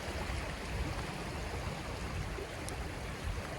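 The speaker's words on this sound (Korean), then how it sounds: "이렇게 물소리가 들린다고 해서 양평 물소리 길이라고 합니다" Water rushes and burbles continuously in a nearby stream, a full, even wash of sound with no voices.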